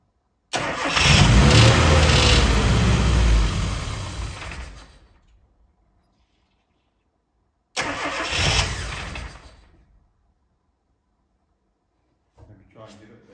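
A classic Mini engine with the choke pulled out cranks and tries to start in two bursts, a long churning attempt followed by a shorter one, with silence between them and a brief sound at the end.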